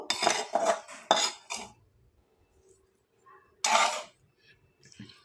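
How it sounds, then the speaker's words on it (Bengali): Utensils scrape and clink against a dish while onion-stalk bharta paste is scooped up, several quick bursts close by, then a pause and one more scrape. "সবটুকু আমি তুলে নিচ্ছি"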